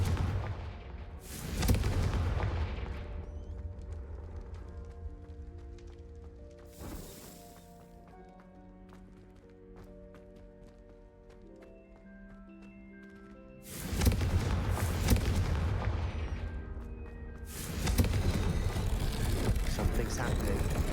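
Confringo blasting-spell explosions in the video game Hogwarts Legacy: three loud booming blasts, one early, then a pair later on, each with a rumbling tail over quiet game ambience and music, with some in-game dialogue.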